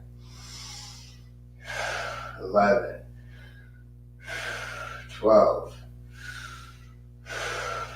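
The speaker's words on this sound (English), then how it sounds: "Breathing through your nose, your mouth, whatever feels good." Heavy, rhythmic breaths during a yoga breathing exercise in a live class for Brazilian jiu-jitsu athletes, several deep inhales and exhales spaced a couple of seconds apart, while an instructor counts aloud.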